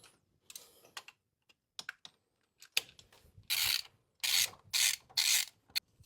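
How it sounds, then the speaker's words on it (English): A ratchet on a long extension tightening bolts, heard as bursts of rapid clicking from close by, alone with no talk, amid small clanks of metal. "Use this comically long extension to tighten all these up."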